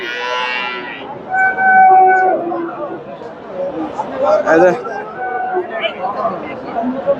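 A loud, drawn-out low moo from Friesian bulls amid a busy cattle market crowd at Dhaper Hat, Bogura, with people talking and chattering all around.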